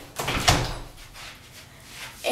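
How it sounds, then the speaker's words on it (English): A room door closing in a home, one muffled thud near the start followed by a low lingering rumble, fairly close. "let me close the door"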